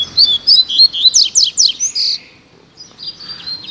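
A double-collared seedeater sings in a territorial song dispute, with loud, close bursts of bright chirps and trills in quick succession, then a pause and a softer closing phrase.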